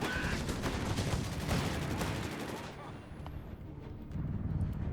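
Mortar blasts and rattling gunfire fill a Company of Heroes 3 battle as Fallschirmjäger infantry move, a dense, continuous barrage of booms and shots that eases slightly midway, with a commentator talking over it.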